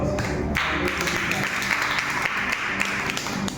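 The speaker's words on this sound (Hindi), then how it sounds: "एक बार जोरदार ताली से।" A church congregation claps loudly together during a Sunday worship service, a dense sustained burst of applause filling the room without pause.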